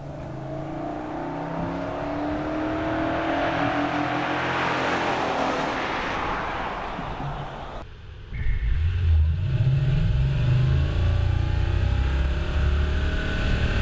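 A hybrid car's 5-litre V8 engine, with two electric motors, roars steadily and loudly, rising in pitch as it accelerates, then drops into a deeper, rumbling drone near the end.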